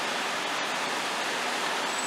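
A heavy downpour falling outdoors in May, continuous broadband rushing with a soft, even texture, heard alone at moderate distance.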